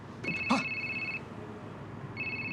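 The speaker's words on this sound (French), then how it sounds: "Ça doit être le président Bottrek qui vous appelle." A telephone bell ringing in an office, two electronic rings separated by a pause, with a short knock or thump near the start and no talking over it.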